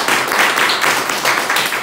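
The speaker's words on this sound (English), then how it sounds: "give yourselves a big round of applause" Students clap for themselves after midterm presentations in a university public speaking class, a dense, fairly loud burst of applause filling the room for a couple of seconds.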